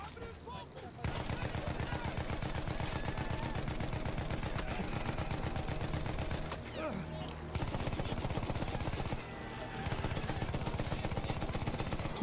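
Two shooters in the war game Battlefield 1 open fire head-on, producing long loud bursts of rapid automatic gunfire that break off briefly, then resume in dense volleys.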